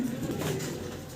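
A single large Modena pigeon coos softly and close by, one low, rolling coo that fades gently with little else around it.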